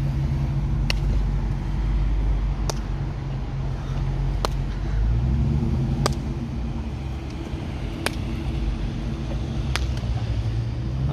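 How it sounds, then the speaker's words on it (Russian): A car engine runs with a steady, low rumbling drone heard from inside the vehicle, its pitch shifting slightly midway, while sharp clicks recur at regular intervals of about two seconds. "Вот это движок."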